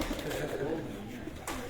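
Pigeons coo softly in a low, steady murmur on a rooftop loft, with a faint voice briefly audible near the end.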